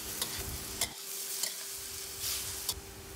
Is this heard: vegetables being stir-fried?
yes